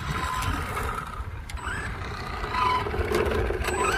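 An Arrma Vendetta RC car drives fast, its electric motor giving a steady whining buzz that swells louder toward the end, heard outdoors without speech.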